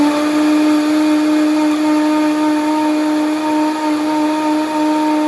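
A blender crushing ice for a frozen slushy, a loud, steady high motor whine with a gritty grinding layer that runs without pause throughout.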